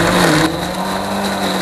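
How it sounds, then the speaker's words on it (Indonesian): An electric blender grinds a spice paste with a little oil for sayur lodeh with red snapper, a loud steady whir running throughout that drops slightly after the first half-second. "terus langsung aja kita blender."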